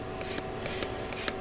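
Gundam model part rubbed with 400 grit sandpaper, three quick rasping strokes at an even rhythm, close and fairly soft, no talk.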